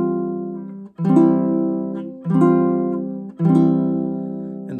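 Three strummed chords on a baritone ukulele tuned DGBE ring out one after another, each left to sustain and fade before the next strum, moving from F and resolving down to C.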